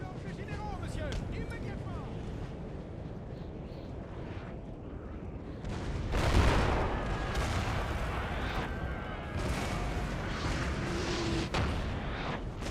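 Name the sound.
cannon fire in Napoleon Total War video game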